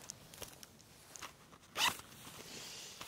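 A zipper on a backpack side pocket is pulled open with one hand, a few small ticks and then one sharp, quick close rasp in otherwise quiet surroundings.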